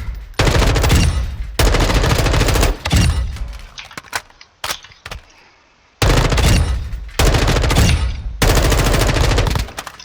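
Fully automatic M4 rifle fire with no magazine attached, in the Modern Warfare 2 video game: loud, rapid bursts in several long strings separated by short quiet gaps, close and dominant.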